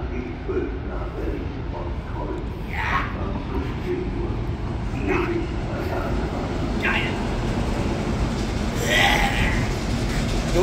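Train noise rumbles steadily at Berlin Lichtenberg railway station, a continuous low roar that swells slightly toward the end, while people talk over it.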